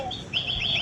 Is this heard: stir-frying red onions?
no